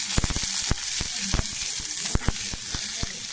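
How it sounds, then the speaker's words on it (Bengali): Onion and garlic sizzle in hot oil, a steady crackling hiss broken by sharp pops and spatters at an uneven rhythm, close by. "পেঁয়াজ কুচি, রসুন কুচি তেলে দেওয়া হবে। ভালো করে ভাজবো,"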